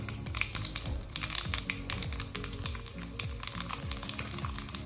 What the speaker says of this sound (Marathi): दोन टेबलस्पून तेल आपण कडकडीत गरम करून घेतलेले एक टीस्पून आपण त्यामध्ये मोहरी टाकू